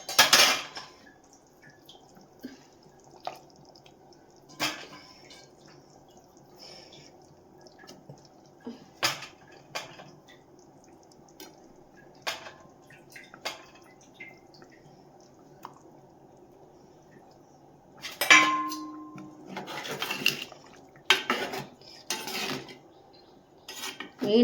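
Cooking utensils clink and tap sparsely against a pot while fish is stirred into a thick onion and tomato curry, with soft wet squishing and a busier cluster of clatter near the end.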